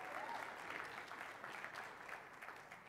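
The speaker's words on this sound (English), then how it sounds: "a round of applause for sure" A conference crowd applauding after a keynote, continuous dense clapping heard from a distance, quite faint, with a brief whistle or cheer near the start.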